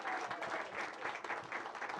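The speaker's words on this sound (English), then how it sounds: "Let's give Sidney Katz, the forever mayor of Gaithersburg, a round of applause." A book festival audience applauds the mayor of Gaithersburg with sustained, dense clapping that stays fairly even and moderately distant throughout, and no one speaks over it.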